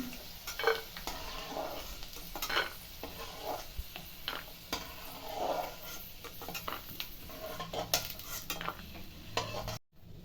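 Peanuts frying in hot oil in a pan for lemon rice, a steady sizzle with scattered stirring and clinks of a utensil against the pan, close and alone without talk.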